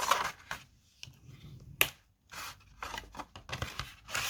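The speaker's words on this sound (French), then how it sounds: "Vous pliez tous vos plis. Vous pliez bien en fait." Paper is folded and creased into a hexagonal box, with irregular crisp rustles and swishes and one sharp crack partway through, close and fairly quiet.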